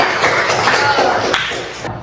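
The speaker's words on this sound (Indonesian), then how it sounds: "tepuk tangan dulu buat Ruben" Classroom applause for a student in a Christian religion lesson, a brief burst of close, brisk clapping from a small group that tapers off within two seconds.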